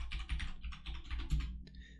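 A computer keyboard is typed on in a quick burst of clicky keystrokes. There are short pauses between the bursts, and the keys sound close by and moderately quiet, with no talking.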